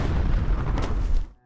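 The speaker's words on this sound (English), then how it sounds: "Selma accidentally steps on a landmine, followed by a sudden small explosion." A small landmine blast in a film scene, a dense low rumbling boom sustained for over a second before cutting off abruptly into silence.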